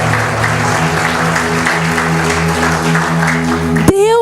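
Close, lively applause from a church congregation praising the Lord, carried over a sustained keyboard chord, ending abruptly as a voice cuts in.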